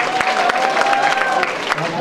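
An audience at a school ball for ninth graders applauds, a dense, steady wash of clapping from many hands that stays loud for the whole short stretch.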